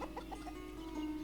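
Chickens cluck faintly in the farming village game Ostriv, a few soft, scattered clucks over a steady background hum.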